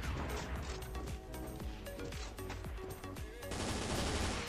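Rapid automatic bursts from an M249 machine gun, Perfect Silver skin, in the CF Mobile (CF Legends) shooter, loud and dense, with clattering mechanical reload sounds mixed in across the stretch.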